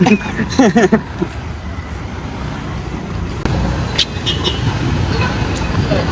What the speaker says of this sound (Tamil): என்ன ஒரு நாளும் இல்லாத மாதிரி ஒரு டிராஃபிக் உண்டு